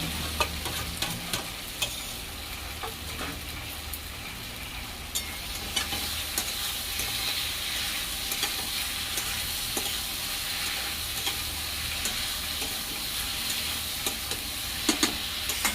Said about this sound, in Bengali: ভাজা আলুটা দিয়ে আবার নাড়াচাড়া করে দেবো।